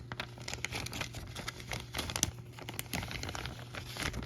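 A plastic bag crinkles up close as an action figure is slipped into it for homemade kaiju toy packaging, producing faint, irregular rustles and crackles with no talk.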